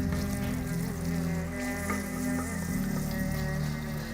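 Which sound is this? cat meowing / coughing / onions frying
onions frying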